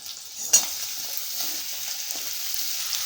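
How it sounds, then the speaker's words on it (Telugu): Green chilies and ridge gourd pieces fry in a pan for chutney, a soft steady sizzle with a sharp clatter as the pieces go in, followed by faint stirring. "మిరపకాయలు అయితే ఇలా వేగేటప్పుడే మనం దీంట్లోకి బీరకాయ ముక్కల్ని వేసుకుంటున్నానండి."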